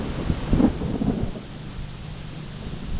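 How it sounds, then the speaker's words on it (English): Low thunder rumbles outdoors, strongest in the first second and then fading into a steady soft wash of rain and wind, with no voices. "I don't know if you hear that thunder"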